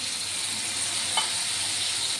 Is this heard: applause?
no